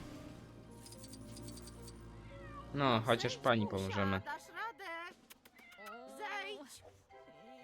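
A cat stuck up a tree in a Lego superhero video game meows repeatedly in short, rising calls. The meows are interleaved with people talking over a steady game background.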